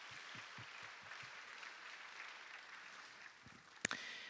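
A church congregation applauds together at a Korean worship service, a soft, even wash of clapping lasting a few seconds before it fades, with a few sharp knocks near the end.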